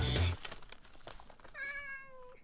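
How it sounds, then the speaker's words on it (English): Minecraft cat meowing, one clear drawn-out meow heard alone after a short burst of noise and faint game sounds. "Come here, you stinky little cat."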